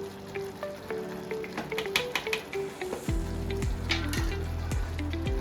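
Ghee added to hot lapshi porridge in a pot, a soft sizzle and bubbling starting quietly then turning into a steady louder hiss with sharp crackling pops, no voices.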